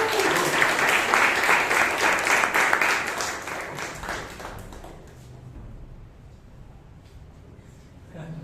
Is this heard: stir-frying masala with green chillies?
no